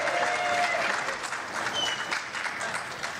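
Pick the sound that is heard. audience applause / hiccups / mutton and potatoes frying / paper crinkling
audience applause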